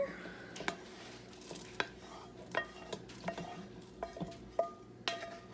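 Ground deer meat going into a pot of chili with tomatoes and liquid, heard as soft scraping and stirring with scattered small utensil clinks against the pot, quiet and close, without talk.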